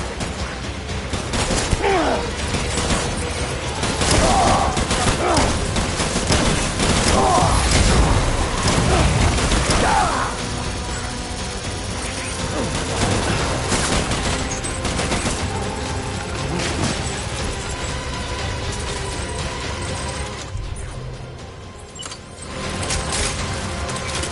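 Sustained gunfire rattles through a battle in the video game Death Stranding, dense bursts and rapid shots layered over mechanical clatter and a constant rumble, loudest in the first half and continuing at a steady level throughout.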